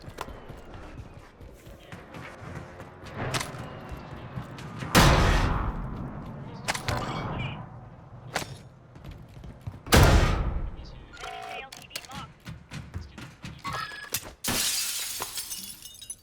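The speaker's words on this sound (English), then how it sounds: "I was getting sniped at" Sniper gunshots in Warzone, several sharp loud cracks at irregular intervals, each with a brief echoing tail, spread among quieter gameplay sounds and shuffling movement.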